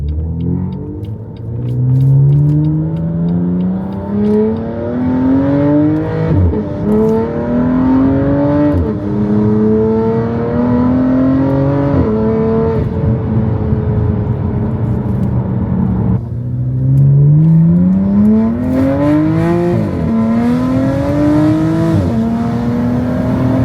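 A BMW F8X car's valvetronic exhaust roars close up as the engine revs through first gear, the pitch climbing steadily, dropping at a shift, then climbing again.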